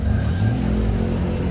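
A Toyota Harrier 3000 six-cylinder engine revs loudly and steadily at a car meet, a deep continuous roar that holds throughout.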